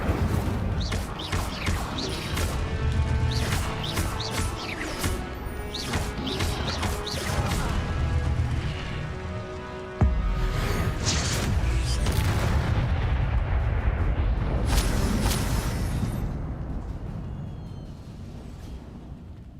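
Fire spells and combat explosions in Hogwarts Legacy, a dense, continuous barrage of loud crashes, booms and blasts with layered magical effects and battle noise throughout, with no talking.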